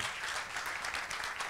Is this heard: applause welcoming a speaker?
yes